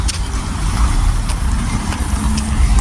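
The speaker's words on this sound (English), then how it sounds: "lots of traffic out here." Steady morning road traffic, cars and trucks passing continuously at moderate distance with a constant engine rumble and brief brake hisses, no talking.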